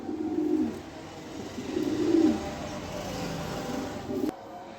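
Pigeons coo in low, throaty rolling phrases, repeating in a few bursts at moderate distance over a steady background hum of traffic.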